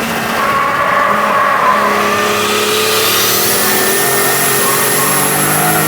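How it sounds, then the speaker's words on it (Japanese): A 650-horsepower RB-engined car on street tires runs at full throttle on a track, a loud, sustained engine roar rising in pitch, with tire squeal and no talk. "650 horsepower doesn't stop Tsuchiya from going full throttle"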